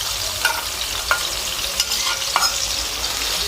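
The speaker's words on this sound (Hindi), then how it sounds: "ये मेरे पास अदरक लहसुन का पेस्ट है, मैं इसके अंदर अब ऐड करती हूँ।" Ginger garlic paste frying in a pan, a close continuous sizzle with a few light scrapes as it is stirred, and no voices.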